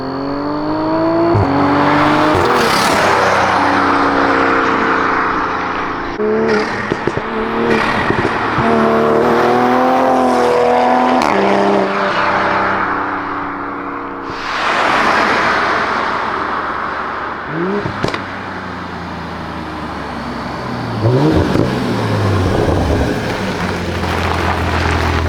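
A car exhaust roars loud and close as the engine climbs through repeated revs and shifts, with surges and brief drops in pitch, and no voices over it.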